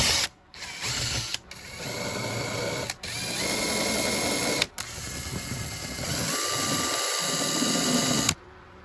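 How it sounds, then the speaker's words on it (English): An electric drill whirs loudly in several long bursts, pausing briefly between runs, its motor pitch shifting slightly as it bites in. "So I will catch you with the drilling action."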